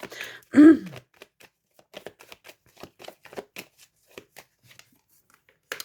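Oracle cards are handled and laid over one another, giving soft scattered rustles and light taps close by after a brief throat-clearing vocal sound at the start.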